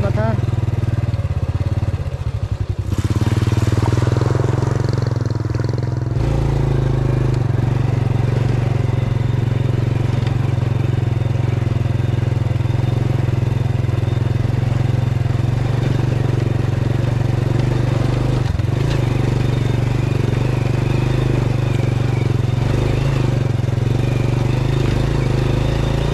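A Honda 100 motorcycle riding on a rural road near a shallow stream, its engine a steady low drone with rough clattering, close and loud throughout, with a few short bursts of talk over it.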